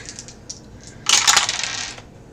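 Dice clatter and rattle onto a hard surface in a short burst of bright tumbling clicks, preceded by faint shaking.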